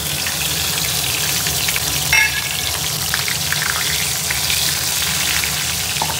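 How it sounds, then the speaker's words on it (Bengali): Split green chilies and black cumin seeds crackle and sizzle steadily in hot oil for a Bengali tempering, with a brief sharper spit partway through and no talking. "এখানে ফোড়নের জন্য দিয়ে দিয়েছি দুটো চেরা কাঁচা লঙ্কা আর"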